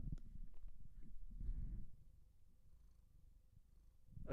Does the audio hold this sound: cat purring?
yes